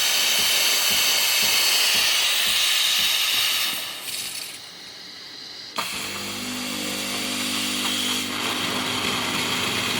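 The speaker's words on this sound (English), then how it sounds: "And look at the steam now." A loud, steady steam hiss from a repaired Sage Barista Express espresso machine steam wand with a low rumbling machine underneath, then the hiss drops away and a lower humming, bubbling tone takes over.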